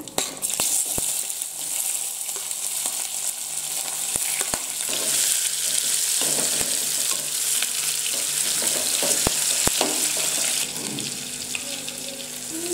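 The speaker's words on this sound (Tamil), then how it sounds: "வெங்காயம் வதங்கிடுச்சு." Onions with curry leaves sizzle and fry steadily in a pan for a Tamil curry with snail kola balls, with occasional stirring clicks and a brief tap-water sound near the end; no talking.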